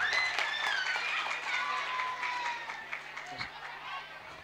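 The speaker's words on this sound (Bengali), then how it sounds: "জোরে হাততালি।" Loud applause from an audience at a stage play's birthday celebration for an MLA, a dense sustained clapping that gradually thins out, with voices in the crowd over it.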